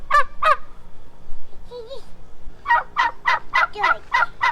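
Turkeys gobbling in a rural crop field: two loud gobbles near the start, then a burst of rapid repeated gobbles from a close bird, with a few softer chirps in between.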